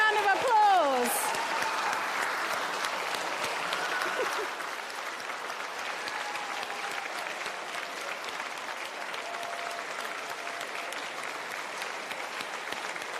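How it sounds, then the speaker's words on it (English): A large audience claps at the Community Rail Awards for the 2020 winners: dense, steady applause that starts loud and tapers slightly over thirteen seconds, with a few whoops at the start. "I'd like everyone to give all of our 2020 winners a massive round of applause."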